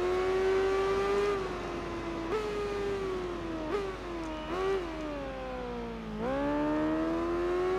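Superbike engines scream through a race in Tourist Trophy, a loud, close high-pitched whine that dips and surges again with each gear change, running continuously throughout.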